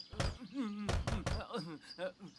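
Several sharp knocks on a door ring out amid loud shouting, a man calling urgently for someone inside to open up, with the raps falling in short bursts between his cries.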